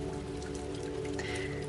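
Raindrops patter densely and evenly on a surface, a steady close wash of rain beneath a low humming drone, with no one speaking.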